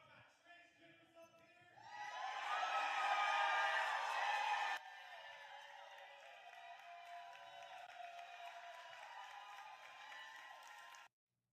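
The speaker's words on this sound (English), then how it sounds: "What was the cheering for?" Crowd cheering and applause erupt at a public comment meeting, a loud dense burst lasting a few seconds before dropping to a sustained, quieter murmur of crowd noise and voices.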